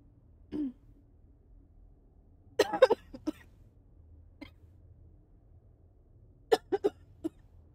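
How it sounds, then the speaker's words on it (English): Several sharp coughs close to the microphone, making it peak, a short cluster near the start and another burst later, separated by quiet room hiss. "Sorry, I didn't mean to cough into the mic and make it peak."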